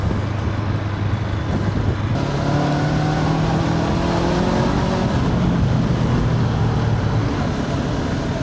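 A 2025 Honda NX500 adventure motorcycle climbs a mountain road, its engine droning steadily and loudly up close with rising and falling revs as it accelerates, and a constant rush of wind runs underneath.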